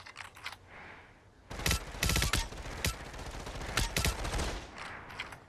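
Bursts of gunfire crack out in quick, uneven volleys while flying through the sky in the VR shooter Population One, with short pauses between loud clusters of shots.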